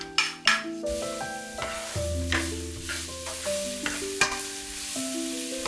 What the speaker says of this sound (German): Ein Schuss Öl in den heißen Schmortopf. Zwiebel und Ingwer anbraten.